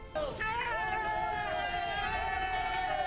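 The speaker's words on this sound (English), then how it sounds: ""Go Nawaz, go," his opponents chant, but as they cheer" Opponents of Nawaz massed in the streets, chanting and cheering: a loud crowd roar with rising and falling chanted voices, sustained throughout and heard at close range.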